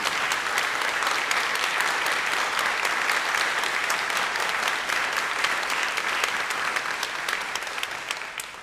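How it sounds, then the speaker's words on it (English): A debate audience at a live event claps as loud as it can to vote, a thick, sustained roar of applause that stays strong for several seconds and then begins to taper toward the end. "please clap now as loud as you can"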